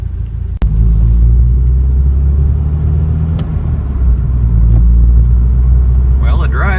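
A Nissan Silvia on a test drive on public roads gives a loud, continuous engine and road rumble inside the cabin, with a sharp knock near the start and a voice at the end.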